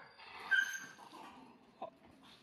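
Rescued stray dogs squabbling at close range, with soft whimpers and brief yips in short bursts over quiet background noise.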